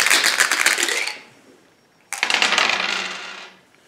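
Yahtzee dice rattled and rolled during a board game, two bursts of loud clattering about a second each with a short quiet gap between them, close to the listener.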